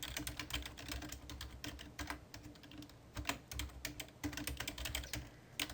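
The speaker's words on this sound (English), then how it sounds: "I'm just going to type in some of my hobbies under each list." Computer keyboard typing, a fast irregular patter of close, soft key clicks continuing steadily throughout at low volume.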